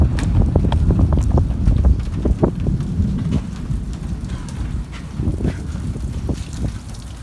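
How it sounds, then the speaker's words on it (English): Early-morning storm with gusting wind buffeting the microphone, a broad rumble that may be thunder, and steady rain, loud and continuous throughout with no talking. "It's windy. There's thunder."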